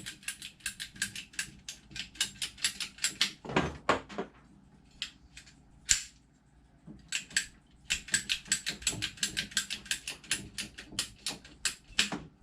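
Hose connections being pulled off household water pipes during a copper-to-PEX replumb, heard as a string of sharp clicks and mechanical rattles, close and moderately loud, with a brief louder clunk near the middle and no talk.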